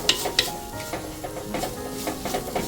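Grated coconut and curry leaves sauté in a pan with a soft, continuous sizzle, broken by repeated scraping and stirring strokes and a few light metallic clinks.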